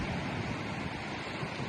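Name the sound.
strong wind and waves at Silver Lake, Michigan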